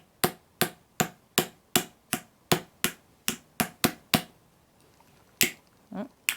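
A hammer strikes parts of a Radio Flyer Push/Pull Convertible Stroller Wagon during assembly. About a dozen sharp, close knocks come in a steady rhythm, then pause, and a few more irregular taps follow.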